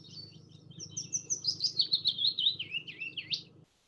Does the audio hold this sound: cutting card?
no